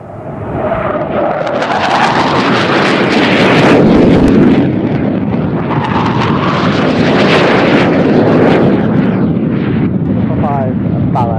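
A US Air Force C-130 roars through the Mach Loop, a loud rushing propeller-engine drone that swells and recedes with strong wind buffeting, voices faintly audible beneath the noise.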